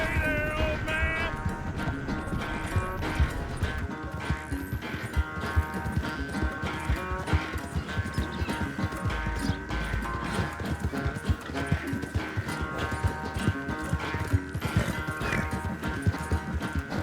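Horse hooves clip-clop steadily in Red Dead Redemption 2, a fast, even rhythm of close, hard thuds under a continuous layer of game music.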